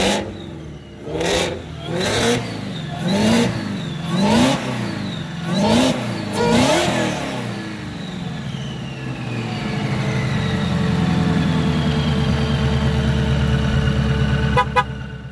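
A car fitted with a Corsa Sport exhaust, revved in about six sharp rising-and-falling blips, then settling into a louder steady drone close by. No one speaks.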